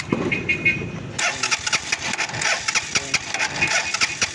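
A 125cc motorcycle engine that is hard to start cranks and catches, sputtering into a rough, uneven run with irregular pops, close by.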